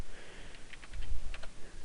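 Keys clatter on a computer keyboard during CAD drafting work, a brief quiet burst of several light taps over low background hum.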